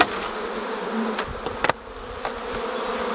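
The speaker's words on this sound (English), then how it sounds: "lots and lots and lots of bees in that box" A thick swarm of honey bees in a nucleus box hums continuously up close, with a few soft knocks and taps cutting through the buzz.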